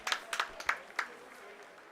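A few faint, scattered claps ring out in ISRO mission control during the Chandrayaan lunar landing, then taper off into quiet room tone.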